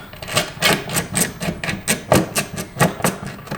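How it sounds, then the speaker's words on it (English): An 8mm ratchet works loose the bolts on a car's rear diffuser, giving a steady run of close, sharp rasping clicks in quick repeated bursts, with no talking over it. "I've got my 8mm ratchet here, so I'm gonna go ahead and unscrew all 4 of these"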